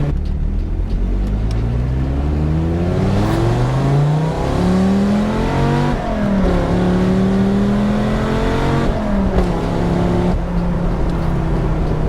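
A Dodge Viper with an 8.3-litre V10 accelerates hard at full throttle on a road, its engine note climbing steadily through the gears with brief dips at each upshift, loud and close throughout.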